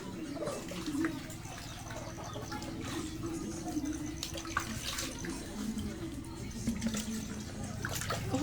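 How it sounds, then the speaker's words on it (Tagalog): Dishes are washed under running water at a sink, with a steady splash and clatter close by and a rooster faintly audible. "Hugas ng pinggan."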